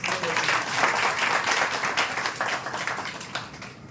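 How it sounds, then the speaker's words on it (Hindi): A crowd applauds steadily for a few seconds, the clapping dense and even, with some voices mixed in before it gradually thins out. "एक बार ताली बजाएंगे आप उसको"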